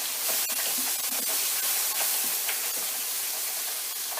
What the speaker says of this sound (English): my sauce is starting to bubble, so we're cooking on gas